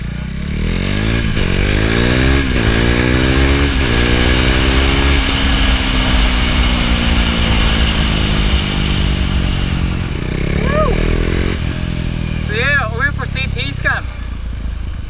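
Motorcycle engine heard up close and loud, revving up and down through gear changes with a steady rumbling drone and rising pitch sweeps toward the end.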